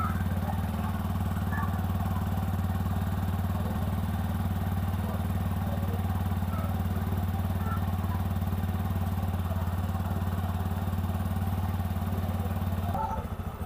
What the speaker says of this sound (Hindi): तो देख सकते हैं बाइक हमारा स्टार्ट है,